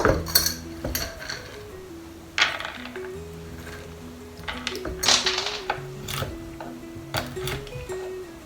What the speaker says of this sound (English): I'm going to cut up a handful of almonds.